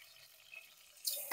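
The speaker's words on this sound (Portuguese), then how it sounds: "agora eu coloco a água" Water poured into a pot for a Brazilian garlic porridge with fried garlic already in it: a faint trickle that swells into a louder splashing pour near the end, close by.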